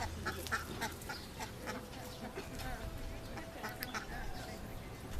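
A group of ducks quack in short, repeated bursts outdoors at a wedding party in California, moderately close, with people chatting in the background.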